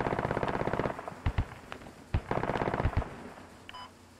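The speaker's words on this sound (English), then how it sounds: "Shots coming from 53." Automatic rifle fire in the military shooter game Squad, with sustained rapid bursts broken by single sharp cracks and a few louder nearby shots, followed by a brief electronic tone near the end.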